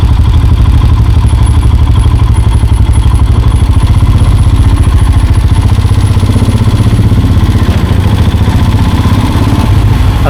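Motorcycles on a Norwegian mountain road, a Honda Pan-European and a Harley, rumble loudly and steadily close by, a dense low engine drone with clattering texture that holds throughout without any talk.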